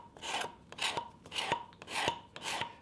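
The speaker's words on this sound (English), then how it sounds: "It's just a card scraper, and I pull up like this," Card scraper pulled across wood in five even, rhythmic rasping strokes, each a scratchy shaving sound separated by brief pauses, close and moderately loud with no talk.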